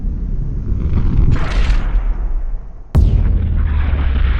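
A detonation of 100 pounds of propane: a distant rumbling blast, then a sharp, loud boom that rolls on into a heavy, sustained rumble.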